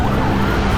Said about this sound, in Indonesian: banyak kali ambulan lewat.